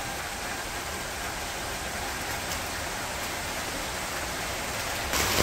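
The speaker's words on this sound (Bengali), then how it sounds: "বাহিরে বৃষ্টি ভালোই পড়তেছে।" Steady rain falls outdoors in a village under a darkening sky, a dense, even hiss that holds constant throughout and swells slightly louder near the end, with no talking.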